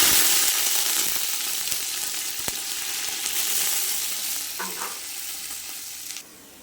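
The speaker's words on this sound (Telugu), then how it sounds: "ఉల్లిపాయలు వేగిపోయాయండి" Onions and curry leaves fry in hot oil for biryani, giving a loud, continuous crackling sizzle that eases slightly toward the end, with a few utensil scrapes and no talking.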